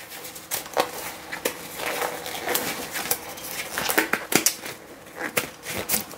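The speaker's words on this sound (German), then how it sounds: "Jetzt kneten wir das Ganze schön durch." Salmon patty mixture with dill and horseradish being kneaded by hand, giving close, irregular wet squishing and slapping bursts that keep going without pause and with no talking.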